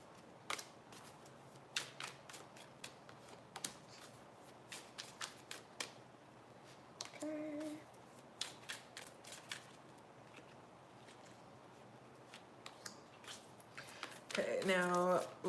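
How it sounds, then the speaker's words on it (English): Tarot cards from a Groovy Waite deck are laid down one after another, crisp soft slaps and flicks spaced irregularly across the span, close and fairly quiet, with a louder shuffle-like flurry near the end. "I'm going to go ahead and start throwing cards down"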